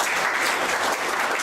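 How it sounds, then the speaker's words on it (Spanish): A church congregation applauds during a service, with thick, continuous loud clapping from many hands filling the space, sustained without pause and no voices standing out. "Denle un fuerte aplauso al Señor."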